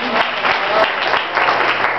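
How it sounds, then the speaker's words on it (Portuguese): A congregation applauds in church, the clapping loud and continuous, swelling and dipping slightly, with a voice faintly present underneath. "Pode aplaudir o Senhor."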